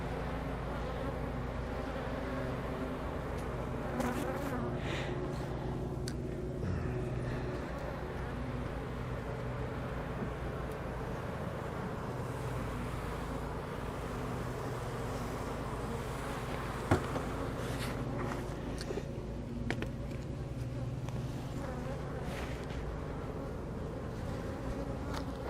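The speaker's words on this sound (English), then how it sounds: "This is where a lot of the bees come and go right there." Honey bees buzz continuously at a hive entrance in a beekeeping yard, a steady, fairly quiet drone with individual bees passing close to the microphone now and then.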